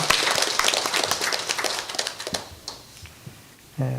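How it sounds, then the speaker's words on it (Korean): A church congregation applauds to welcome returning visitors during a Sunday worship service, a brief, fairly close round of clapping that thins out and fades after a couple of seconds, followed by a short low sound at the end. "우리 박수로 환영합시다"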